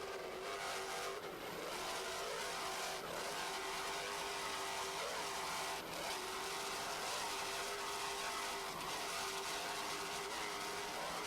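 Racing boat engines from the M class race team Agitator roar steadily and loudly throughout, a continuous high-powered drone with slight surges and no talk over it.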